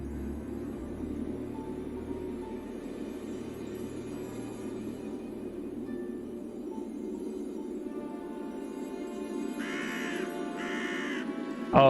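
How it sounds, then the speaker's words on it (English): Crow caws from the video game Heroes of Might and Magic Olden Era, a few short calls near the end over a steady low ambient game soundtrack hum. "Oh yeah, the crow sound."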